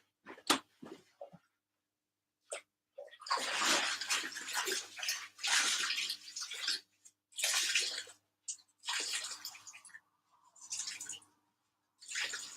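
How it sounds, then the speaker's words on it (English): Hand-dyed yarn being squeezed out, heard as repeated bursts of water splashing and dripping into a basin, each lasting a second or two with short quiet gaps, close and fairly loud. "So I basically squeeze out all the water till they are pretty much completely dry."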